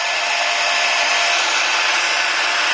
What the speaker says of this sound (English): if you don't have a heat gun, use a blow dryer